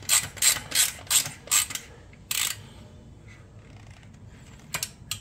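A ratchet wrench loosens a bolt on a motorcycle exhaust muffler during a 2022 Yamaha MT10 link pipe install: a run of five or six quick, close metallic clicking strokes, then a few scattered clicks after a pause.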